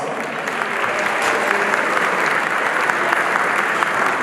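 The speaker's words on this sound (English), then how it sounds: "Let's give yourselves a round of applause." Dense, steady applause from a large gala audience at a heritage association's anniversary celebration, a continuous wash of many hands clapping at even loudness throughout with no voices standing out.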